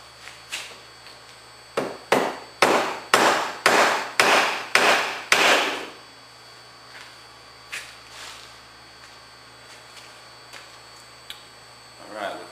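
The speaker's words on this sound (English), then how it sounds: "Now what we're going to do is we're going to hit on the other side and we're going to start dragging this out into a tip." A copper rod is hammered out into a tip, with about eight sharp, evenly spaced metal-on-metal blows in quick succession, then a few lighter scattered taps, over a faint background hum.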